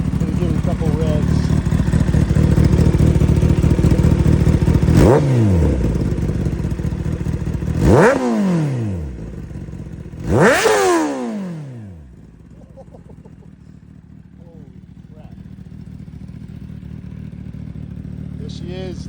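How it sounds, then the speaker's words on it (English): Three sharp throttle blips ring out from a 2025 Kawasaki ZX10R with an M4 GP19 slip-on exhaust, each rising fast and falling back to a rough, close idle that quiets toward the end. "Gonna give it a couple revs."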